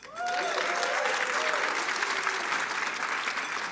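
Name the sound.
audience applause for former deans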